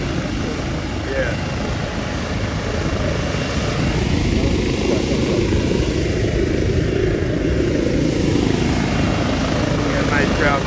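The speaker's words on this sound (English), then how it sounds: "Everybody waiting for the helicopter to take flight." A Life Link medical helicopter takes off from a Walmart parking lot, its rotor and turbine making a loud, steady roar close by, with a crowd's voices underneath.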